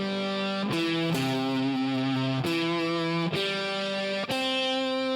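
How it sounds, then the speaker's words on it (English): Electric guitar with thick fuzzy distortion plays sustained notes, each struck sharply and ringing out with buzzing harmonics, loud and alone. "I have a little bit of distortion, fuzzy kind of sound on there"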